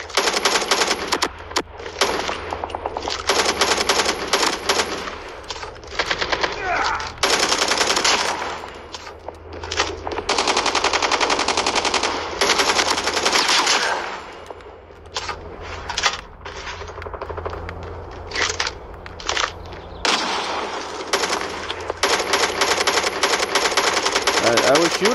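Rapid automatic gunfire bursts repeat through a Call of Duty Mobile free-for-all match, loud and close, in stretches broken by short pauses, with game effects underneath.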